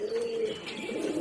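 Domestic pigeons coo softly in a short, close, low throaty burst that repeats with a slight rising and falling tone.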